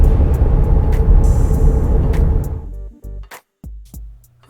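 A car driving on a road in Arizona, steady engine and road roar for about two and a half seconds that then drops away into quieter, broken vehicle noise with brief gaps.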